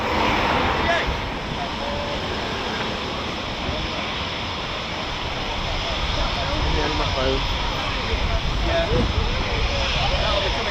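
An Embraer jet passes near RAF Coningsby, its broad, rushing engine noise filling the clip at a steady, fairly loud level.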